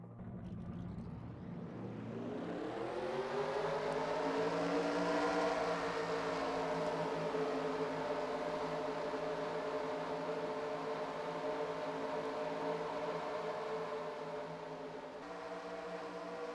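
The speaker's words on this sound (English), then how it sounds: "Drivers, start your engines!" Simulated NASCAR Cup stock car engines fire up together at Darlington in a racing video game, a loud layered droning roar that rises over the first few seconds and then holds steady without talk.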